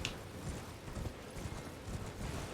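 Horse hooves galloping while riding in Elden Ring, a quick, rhythmic clip-clop of thudding beats that is steady and fairly faint, with no voices.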